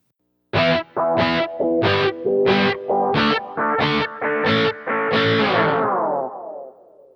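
Electric guitar runs through the Sweep Echo preset on a Line 6 HX Stomp, eight distorted chords struck in a steady rhythm, each smeared by echo and sweeping modulation, with the last one ringing out and fading.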